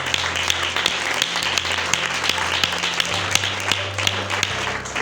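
A church congregation claps together in a steady, dense round of applause with sharp individual claps standing out throughout, and a low hum sits underneath.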